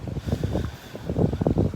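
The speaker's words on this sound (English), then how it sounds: "But it's starting to get windy," Wind at a bay front park in Sarasota, gusty low rumbling buffeting the microphone in uneven bursts, loud and close, strengthening toward the end with no voices.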